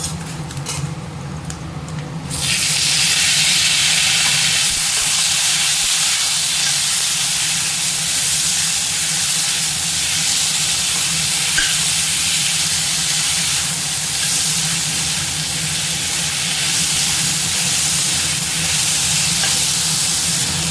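Tomatoes sautéing with fried black urad dal for a chutney, a loud steady sizzle and hiss that swells after a brief quieter start and continues without a break to the end, with no one talking.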